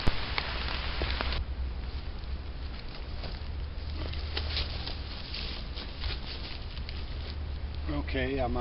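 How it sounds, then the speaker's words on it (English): Steady rain falls in the woods during a ginseng hunt, a dense continuous patter on leaves and ground that runs the whole time, with a brief voice near the end. "it's starting to rain a little bit heavier out here"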